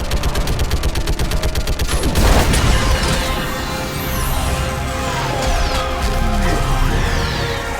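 Rapid weapon fire rattles in Mass Effect 3, then a heavy orbital strike booms and crashes, followed by rumbling debris and sweeping sci-fi whooshes, loud and dense throughout.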